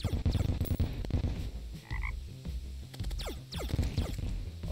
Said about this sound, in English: Are frogs falling from the sky?